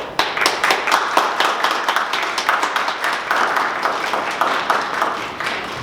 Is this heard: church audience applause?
yes